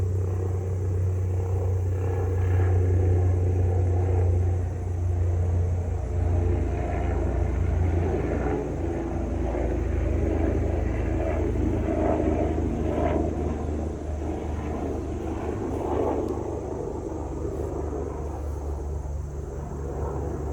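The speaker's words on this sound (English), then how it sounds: "excuse the helicopter." A continuous low mechanical rumble with a throbbing drone hangs in the air, steady throughout with slight swells, from a helicopter passing overhead.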